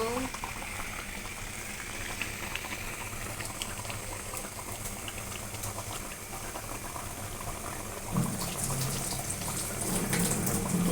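Hilsa fish cooking in a pan bubbles and sizzles continuously up close, a dense, steady simmer that grows slightly louder toward the end, with a voice speaking softly over it.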